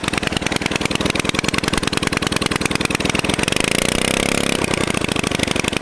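An old 1 hp Briggs engine from a barn runs steadily on the fuel left in its carburetor with the fuel shut off. It makes a close, rapid, even putter and shows a brief smoother stretch near the end.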